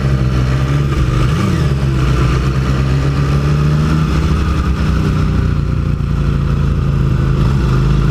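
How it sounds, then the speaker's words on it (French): Motorcycles ride past at a motorcycle rally, a loud continuous engine rumble with slight swells in revs, steady throughout with no talking. "Regardez-moi des jolies motos."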